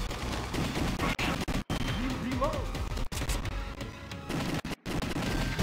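Gunfire from the arcade shooter House of the Dead 2 on Dreamcast crackles in rapid, repeated bursts through the clip, mixed with game effects while a player shouts over it.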